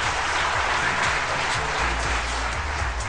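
Applause from the guests at a Mysore wedding event, a dense steady wash of clapping that fills the whole stretch without pause, with no voices standing out.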